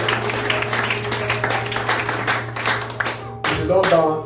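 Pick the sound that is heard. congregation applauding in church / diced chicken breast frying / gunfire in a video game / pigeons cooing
congregation applauding in church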